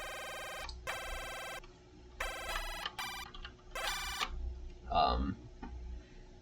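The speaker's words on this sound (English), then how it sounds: "a sequence of notes played together quickly" Fast chiptune-style arpeggios cycling rapidly through chord notes on a single channel, heard as bright buzzy tones in several separate bursts with short gaps between them, fairly loud with no talking.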